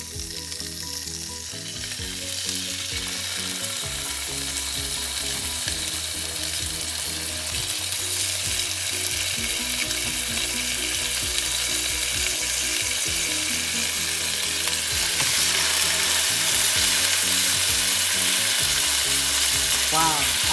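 Salmon fries in a tablespoon of oil in a frying pan, giving a loud, steady, crackling sizzle that builds slightly and continues throughout with no talk.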